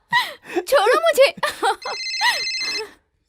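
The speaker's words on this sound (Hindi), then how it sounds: "ओह, प्लम्बर का फोन है।" A telephone rings with a steady electronic trill for about a second after someone speaks, a close, clear tone in a domestic scene.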